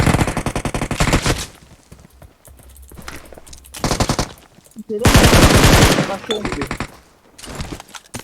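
Bursts of automatic gunfire in the PUBG Mobile battle royale game, loud rapid rattling volleys separated by short quieter gaps, with a long sustained burst in the middle.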